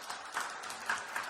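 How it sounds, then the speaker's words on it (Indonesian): Congregation at a church service clapping together, a fairly faint, steady patter of many hands with a few louder swells, lasting only a moment. "Yang mau tepuk tangan yang meriah bagi Tuhan."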